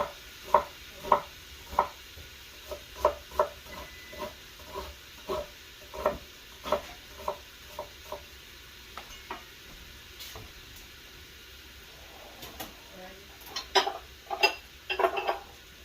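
Onions and peppers cooking in a pan for keto chilli, with a faint sizzle under a steady series of sharp taps and scrapes as a utensil stirs against the pan, then a busier cluster near the end; no one speaks.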